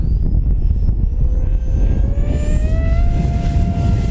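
An FMS Futura 80mm V2 RC electric ducted-fan jet flying over a grass field howls past, a loud rising whine that climbs in pitch with strong steady roar, no talk.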